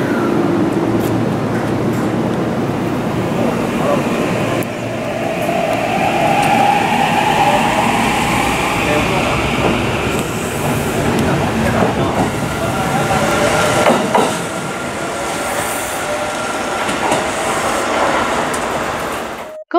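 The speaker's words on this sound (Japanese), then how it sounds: "島風はこの後30分ほどかけて終点の賢島まで走ります。" Steady rumble and rattle of a Kintetsu Shimakaze limited express train running toward Kashikojima, a continuous, fairly loud ride noise with faint murmurs of voices mixed in throughout.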